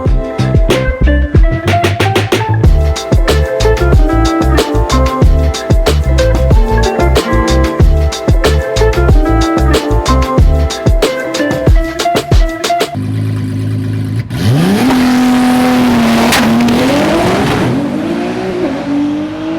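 A 2000+ hp Nissan GTR makes a low-boost test pass: a loud, close engine revs hard through rapid pulsing gear changes, then settles into a steady rising whine of sustained acceleration.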